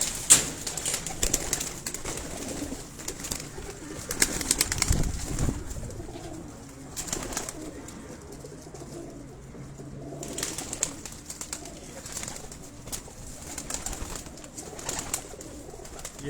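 Flying pigeons kept by a fancier in Rawalpindi coo over and over, near and fairly soft, with some background rustle and no talking.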